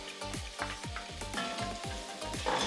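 Onions sizzle in a pan with tender beef brisket, a steady frying hiss broken by rhythmic stirring scrapes roughly every quarter second.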